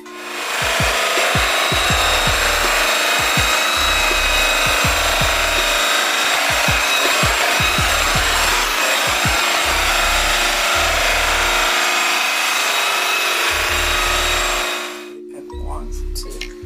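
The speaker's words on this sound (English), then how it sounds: "We're going to use this one with the Blue Moon compound." A flannel buffing wheel spinning at about 1,800 RPM polishes metal with Blue Moon compound, giving a loud, steady whirring hiss with repeated low thumps before the motor cuts off near the end.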